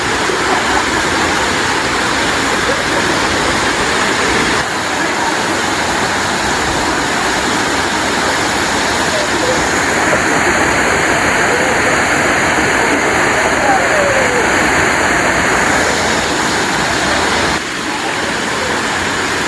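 Batlag Falls waterfall sends a constant, heavy rush of water across the whole stretch, loud and unbroken, heard on the approach over a hanging bridge with no talking.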